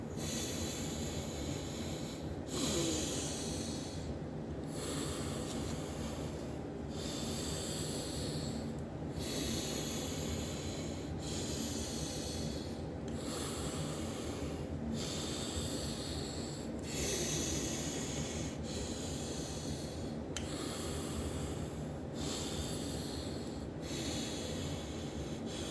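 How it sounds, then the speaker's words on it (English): Alternate nostril breathing exercise, steady rhythmic nasal inhales and exhales alternating every couple of seconds, close and hissy, with a soft constant background rumble. "those are breathing exercises to open the full potentials of your brain"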